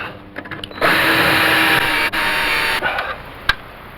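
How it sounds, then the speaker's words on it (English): A cordless handheld drill whines steadily for a few seconds as a sanding drum grinds against the metal of a 1980 Dodge D150 truck, then cuts off and winds down. "I got a sanding drum on my drill."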